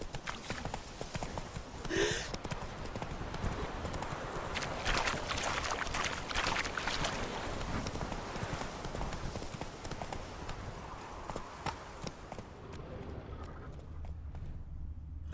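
Roach, the horse in Witcher 3, gallops with a fast, steady clip-clop of hooves over ambient game sound, and the hoofbeats fade toward the end.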